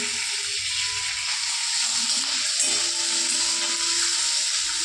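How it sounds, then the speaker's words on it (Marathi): Green chillies and crushed garlic fry in oil in a pan with a steady, close, continuous sizzle. No one speaks. "हिरवी मिरची चांगली परतून भाजून घ्यायची"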